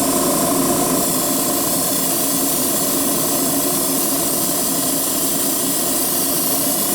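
An airbrush sprays paint onto a glossy spoon, producing a steady, close, continuous hiss of air that runs unbroken throughout.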